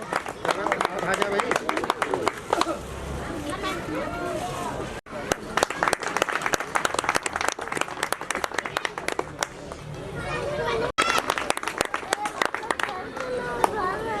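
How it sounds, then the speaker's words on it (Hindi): Audience at a Hindi public welcome ceremony clapping in dense, steady bursts, fairly close, with a crowd murmuring and a voice talking underneath throughout. "ताली बजा दो भाई।"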